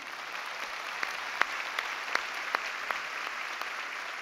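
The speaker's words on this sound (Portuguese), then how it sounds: "vamos dar um aplauso para os dois que estão aqui." Audience applause for a couple of elderly in-laws at a religious talk, a steady mass of clapping with a few sharp, distinct individual claps standing out near the front, no talking over it.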